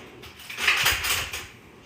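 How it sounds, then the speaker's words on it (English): Fork scraping and clinking in a dish while stirring a cinnamon sugar mixture, a short close swirl of soft scratchy rattling that swells and fades, with no voices. "give it a nice stir with a fork"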